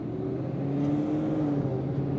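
A Roush Stage 3 Mustang running on E85 fuel pulls hard under acceleration, a steady, rising engine drone heard from inside the car at moderate loudness.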